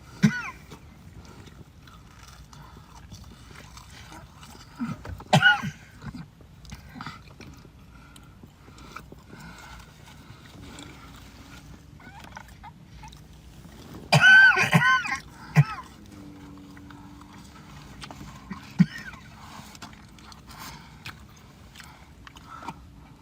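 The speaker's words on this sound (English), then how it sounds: "When I eat something, it makes me cough." A woman coughs a few times during a livestream, with a short cluster near the start and a louder burst of coughing about two-thirds through, over a low steady background hum.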